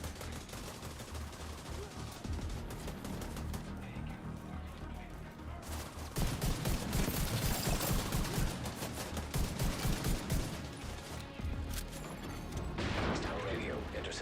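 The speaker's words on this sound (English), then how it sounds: "Radio intercepted. I hear gunfire." Rapid gunfire bursts from the video game The Division, crackling loudly and almost continuously under dense game sound, heaviest through the middle and again near the end.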